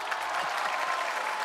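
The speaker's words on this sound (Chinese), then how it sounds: "我们给他一点羞臊的掌声" A live stage audience applauds in a steady, dense wash of clapping that runs for the whole brief moment, evenly loud with no voices standing out.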